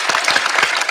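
Brisk applause, close and loud, with dense overlapping hand claps filling the whole second.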